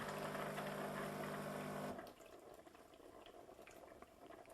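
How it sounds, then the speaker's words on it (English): A Profitec Pro 400 espresso machine pump hums steadily as water runs through for about two seconds, then cuts off, leaving only faint background hiss. "I run a lot of water through."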